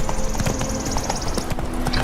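Horse hooves clip-clop in a steady rhythm in The Witcher 3: Wild Hunt, a close, even trot beneath an ongoing game-world background, with a faint neigh-like tone and no speech.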